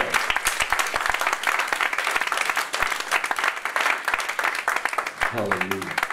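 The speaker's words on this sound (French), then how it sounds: "Est-ce qu'on peut applaudir le Saint-Esprit?" A church congregation applauds during a French-language worship service, a dense, loud wash of many hands clapping throughout, with a brief voiced sound near the end.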